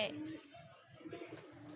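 Pigeons coo softly in low, rounded repeated pulses close by, while a person talks over them.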